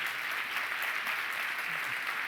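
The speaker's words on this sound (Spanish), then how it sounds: "sisplau, un fort aplaudiment per al Señor de los Crímenes" A festival audience claps for a guest speaker at a true-crime talk, producing continuous, even applause at moderate volume from start to finish.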